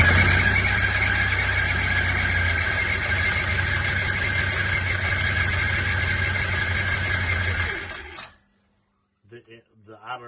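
Engine of a Can-Am Commander 800 side-by-side running with a stuck clutch idler bearing, a loud steady droning whine with a high rattle, cutting off abruptly near eight seconds, followed by brief talk.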